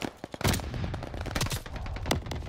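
Rapid bursts of automatic gunfire from the SDG rifle in the Call of Duty Vanguard multiplayer game, close and loud, with sharp repeated shots running throughout.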